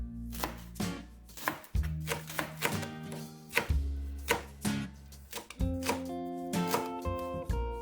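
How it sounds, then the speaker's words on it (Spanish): Spring onion being sliced thin on a cutting board, a brisk run of sharp knife thuds in an uneven rhythm, close and clear over faint tonal background music. "Cebolla de verdeo en láminas finas."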